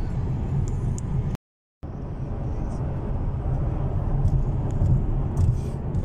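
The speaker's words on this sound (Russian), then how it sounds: "Я еду по трассе М1." A rented Opel cruises along the M1 motorway, giving a steady low road and engine rumble with a brief dropout, while a person talks over it.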